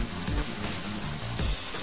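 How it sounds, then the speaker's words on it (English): Steady rainfall in the video game Mother 3, a soft, continuous patter of drops over a low, repeating musical background. "That's cold rain."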